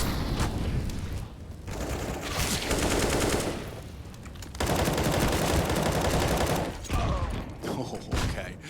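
Gunfire and grenade blasts during a professional Counter-Strike match on the Inferno map, with dense, loud bursts of shots and thumps in busy stretches separated by brief lulls, over crowd and game noise.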